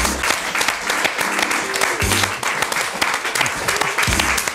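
An audience applauds steadily, many hands clapping in a dense, sustained wash with a few voices faintly underneath.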